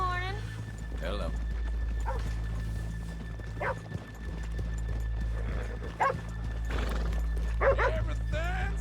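Horses whinny and snort several times over a steady low hum, with occasional hoof clops; the sounds are synthetic and game-like, spaced irregularly, in Red Dead Redemption 2 on PS4.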